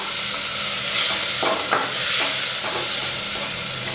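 Onions and sambar powder sizzle in a hot pan while a spoon scrapes and stirs in several short strokes, close and continuous.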